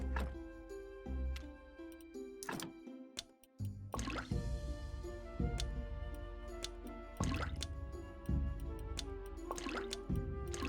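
Water being collected in the game Graveyard Keeper, heard as wet drips and squishy liquid effects with ticking over a steady looping game soundtrack, no talking.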